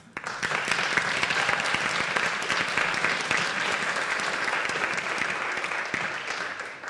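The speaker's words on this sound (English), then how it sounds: "One more round of applause." A round of applause at a school district board business meeting honoring National Board Certified teachers: steady, dense clapping from the room throughout, fading slightly at the end.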